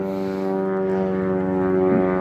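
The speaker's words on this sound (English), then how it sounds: "Got an airplane there. My apologies for all that noise." A propeller airplane droning steadily overhead outside a van, a loud continuous engine hum with layered harmonic tones that swells slightly toward the end, heard alone without talk.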